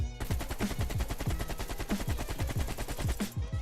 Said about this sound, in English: This is the Gunfight AK with full attachments on it.